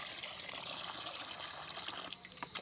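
Liquid is poured into a container of plain water for a garden mixture, a soft continuous gushing trickle, faint and close, with no talking.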